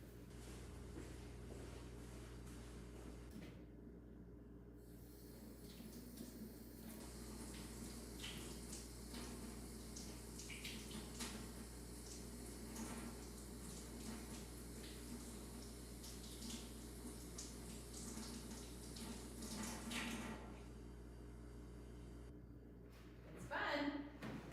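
Tap water runs steadily into a sink as paint is washed off a gel plate, a faint continuous splashing hiss with occasional clatter, under soft speech for most of the stretch.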